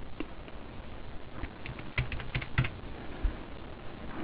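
Typing on a computer keyboard, with close, irregular clicks and clacks that grow brisker in the middle, heard alone.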